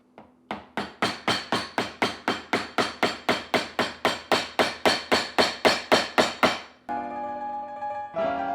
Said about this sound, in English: as I'm prying this up here, I can see that there's little nails in here